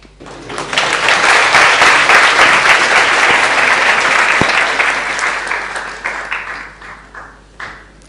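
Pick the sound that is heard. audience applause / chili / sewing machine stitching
audience applause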